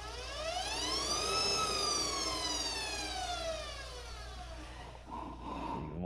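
A Netgain Warp9 electric motor spins up under throttle with a rising then falling whine, loud and steady and close, and nobody speaks over it.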